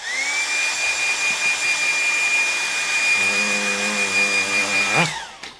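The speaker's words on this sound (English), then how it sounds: "I'm going to get the hairdryer on it" A hairdryer blows with a steady, loud whine and broadband rush, a low motor hum joining partway through, then it cuts off near the end.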